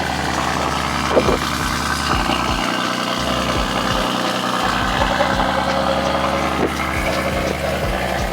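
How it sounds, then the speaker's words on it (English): A BMW M4 with a straight-piped S55 engine idles after a cold start outdoors on a windy day, giving a steady low rumble with small irregular pops and gusts of wind over it. "let me give you guys a quick cold start of a straight pipe S55"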